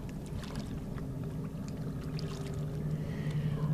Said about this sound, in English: the soothing sounds of the waves of water lapping against the stones